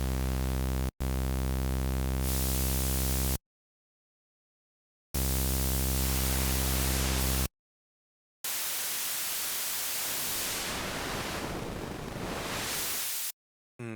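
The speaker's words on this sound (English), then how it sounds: "Then there is a noise generator as well." A Virus TI synthesizer's noise generator plays steady hiss in bursts separated by silences, first a buzzy harmonic tone and then broadband noise whose colour shifts as it is adjusted, loud and alone.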